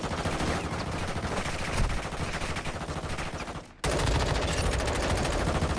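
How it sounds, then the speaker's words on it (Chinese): Rapid automatic rifle fire in the mobile shooter Call of Duty: Warzone Mobile, a loud continuous burst of close gunshots with a brief break near the end before firing resumes. "我今天手动射击哦"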